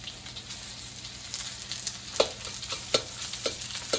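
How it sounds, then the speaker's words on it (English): Beef for Mongolian beef searing in batches in hot oil, a constant crackling sizzle with a few sharper pops and scrapes in the second half, close and unaccompanied by talk. "I'm just gonna add this in batches so that I get a really nice sear on the outside of the meat"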